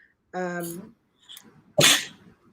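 A sharp, loud sneeze with a brief voiced wind-up, then a quiet pause and a second burst; short speech-like sounds surround it.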